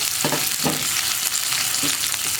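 Dried red chilies and curry leaves sizzle in a hot pan with a constant bright crackle, broken by a few soft scrapes of stirring, with no voices.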